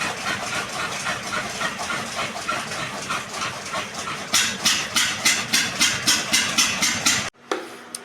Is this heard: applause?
no